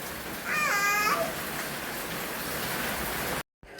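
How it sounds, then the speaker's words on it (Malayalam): Heavy evening rain pours down in a steady, loud, dense hiss that carries on throughout, broken by a brief dropout near the end. "സന്ധ്യയ്ക്ക് നല്ല മഴയാണ് കേട്ടോ, അതിശക്തമായ മഴയാണ്"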